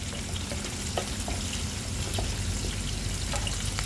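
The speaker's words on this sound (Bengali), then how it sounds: "এই চুলায় তরকারির জন্য পেঁয়াজ দিয়েছি" Onions frying in a pan on one burner for a brinjal and hilsa fish curry, giving a dense, constant crackling sizzle at a steady level with no talking.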